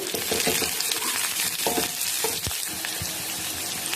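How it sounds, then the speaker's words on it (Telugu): Steady hiss of ginger pieces frying in hot oil, with scraping stirs and light clinks of a utensil against the pan throughout, close and fairly loud. "అల్లం ముక్కలు వేసుకొని ఫ్రై చేసుకుందాం"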